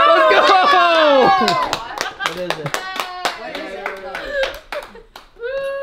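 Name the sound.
child clapping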